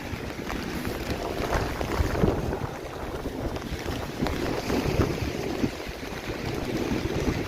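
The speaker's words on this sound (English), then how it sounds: "but now it's super windy" Strong, gusty wind buffets the microphone on a freezing rainy evening outdoors in Toronto, a constant dense rushing roar with no voices.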